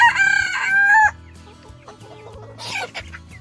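Adult hens cluck and squawk close by as young chickens are let in among them, with loud bright calls at the start, quieter clucking in the middle, and another burst of cackling near the end.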